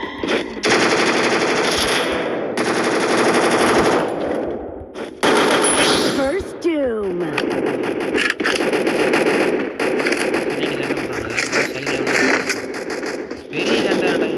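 Gunfire fills a Free Fire video game match in rapid machine-gun bursts, loud and close, with short pauses between volleys and a voice talking over the action.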